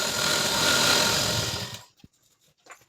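A sewing machine runs in one steady, close whir as it stitches along the reverse side of fabric for a katori blouse, then cuts off into near silence with a few light handling clicks.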